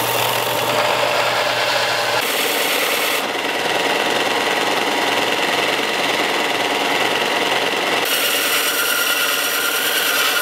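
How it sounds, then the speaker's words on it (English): Steady, loud abrasive hand polishing of knife steel with 80-grit abrasive, a continuous rasping grind that shifts in tone a few times without pause. "we're going to go ahead and polish up the steel"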